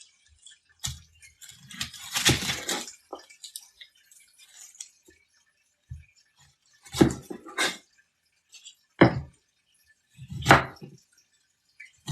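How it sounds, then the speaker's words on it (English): An onion chopped by knife on a cutting board, a few sharp separate knocks spaced irregularly, with one longer rough scraping burst early on and no voices. "I'm gonna put my onion, chop it up."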